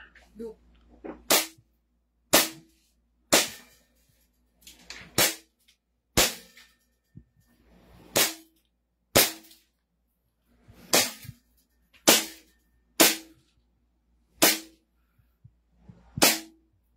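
An SRC Hi-Capa airsoft pistol fires about a dozen sharp, snappy shots at a steady pace of roughly one per second, loud and close, with quiet background between shots.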